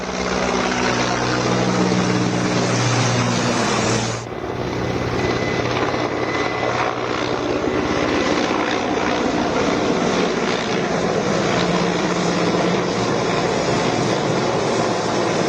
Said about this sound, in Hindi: हेलीकॉप्टर से निगरानी की गई है